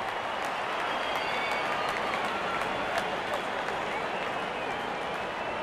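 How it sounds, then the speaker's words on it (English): A cricket crowd at an India versus Australia Test match applauds a batsman's half-century with a steady, even wash of clapping that continues throughout, with commentary talking over it. "Wonderful 50, and the crowd applauds."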